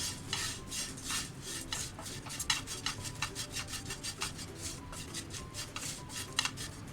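Flattened rice dry-roasting in a pan over high flame, with a spoon repeatedly scraping and stirring the grains in a steady, rhythmic rasping and clinking that continues throughout.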